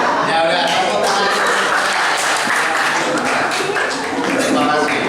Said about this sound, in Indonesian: Ya udah, tepuk tangan.